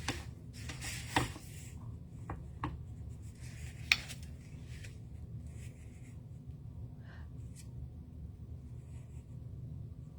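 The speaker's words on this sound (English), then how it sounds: "And I'm going to use my paper piercing." A paper piercing tool pokes holes through card stock during a stamping craft session, giving a few faint, sharp ticks spaced seconds apart over a low, steady room rumble, with no one talking.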